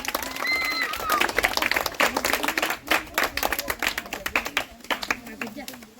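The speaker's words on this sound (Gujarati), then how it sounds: "હાલો ભૂરાને તાળ્યું એકવાર" Group clapping at a village laddoo eating contest, a brisk burst of many hands applauding together close by, with cheering voices and people talking over it.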